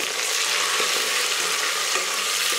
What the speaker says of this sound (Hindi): अब प्याज और टमाटर को हम थोड़ी देर और भून लेंगे